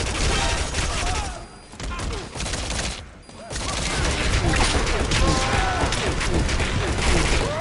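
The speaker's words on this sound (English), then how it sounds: "Identify gunfire. Can't tell where it's coming from." Dense bursts of rapid gunfire in Metal Gear Solid V: The Phantom Pain roar continuously and loudly, with booms and thuds mixed in and a brief lull partway through.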